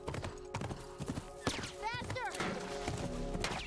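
Horse hooves clip-clop in an irregular gallop-like rhythm in The Last of Us video game, joined by a whinny partway through, while a person talks over the game sounds.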